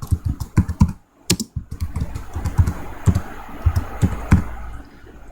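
Rapid close-up keystrokes clatter on a computer keyboard as a title is typed, with a brief pause before the typing resumes in an uneven rhythm.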